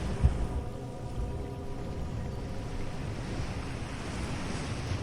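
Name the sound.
calm sea waves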